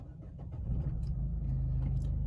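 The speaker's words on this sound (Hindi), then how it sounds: "अब जैसे मैं कार स्टार्ट कर लेता हूं पहले।" A car engine cranks and catches, its low rumble swelling from quiet to a steady idle up close, with a few faint clicks over it.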